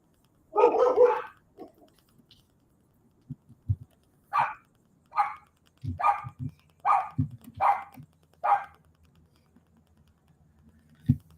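Dogs bark in the background: one rough burst at the start, then a steady series of about six evenly spaced barks, with soft tapping between them.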